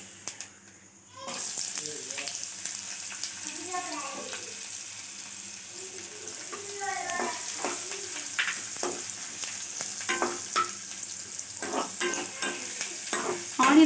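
Chopped onions sizzle in hot oil with fennel seeds for black chana masala, a steady frying hiss broken by repeated stirring scrapes and clatters of a spatula, close and fairly loud, with no voices.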